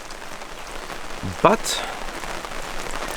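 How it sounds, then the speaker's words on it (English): Steady rain falls on a campsite in Australia's high country along the Blue Rag Range Track, a continuous wash of drops with a man's brief word in the middle. "I'm waiting for this bloody rain to stop so I can pack up everything."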